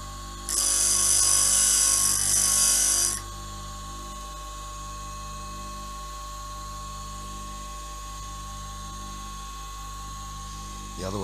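A drill bit's cutting edge held horizontal against a sharpening stone for a secondary grind, giving a steady bright scraping hiss for about three seconds over a quiet machine hum, then stopping.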